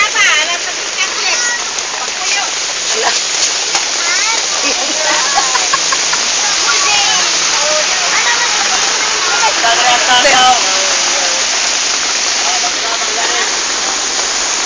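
Heavy rain pours steadily in a dense, hissing wash, loud and constant throughout, while people talk faintly underneath.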